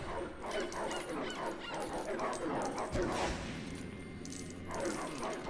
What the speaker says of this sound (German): Jetzt haben wir noch einen riesigen Köter an uns dranhängen.